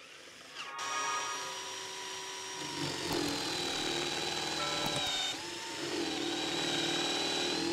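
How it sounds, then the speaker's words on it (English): A battery drill bores an angled 22-degree hole with a Forstner bit through a multi-angle drill guide, a close steady whir whose pitch dips twice as the bit bites into the wood. "see whether we can drill an hole on a 22 degrees"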